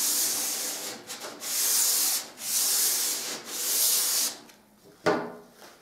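Light hand rubbing of stained interior woodwork with fine 240-grit abrasive, several smooth back-and-forth sanding strokes close up, followed by a brief knock.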